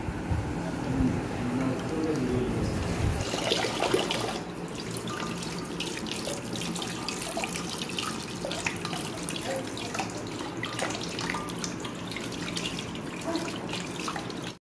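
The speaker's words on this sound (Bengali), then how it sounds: "ছানাটা আমি একটু পরিষ্কার জল দিয়ে ভালোভাবে ধুয়ে নেব যাতে টক ভাবটা না থাকে" Running tap water streams steadily while chhena (cottage cheese) is rinsed in clean water, close and continuous, with splashing and handling noises over the flow.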